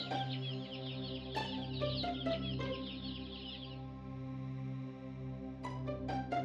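A hen clucks repeatedly in short bursts over a steady low farmyard drone, some calls rising into higher squawks, then a quieter stretch before a final quick run of clucks.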